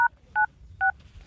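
A telephone number is keyed in on a phone: three short, clear touch-tone beeps spaced evenly apart, with a quiet background between them.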